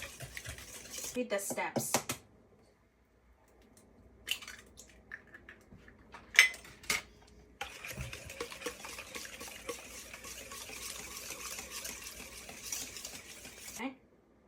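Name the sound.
whisking brownie batter in a bowl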